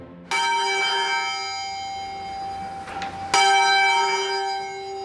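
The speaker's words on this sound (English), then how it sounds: "These are the Bow bells, arguably the most famous bells in London." The Bow bells of St Mary-le-Bow church in the City of London ring out loud and close, two resonant strikes about three seconds apart, each leaving a long shimmering hum that slowly fades.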